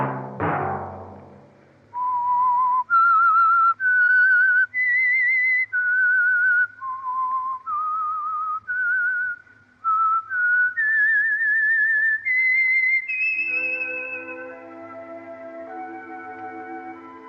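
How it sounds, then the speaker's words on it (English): The whistled signature melody of The Whistler radio program: a lone, clear human whistle carrying a slow tune of sustained, sliding notes, preceded by a brief soft sound and fading into sustained orchestral chords at the end. "Let that whistle be your signal for the Signal Oil program, The Whistler"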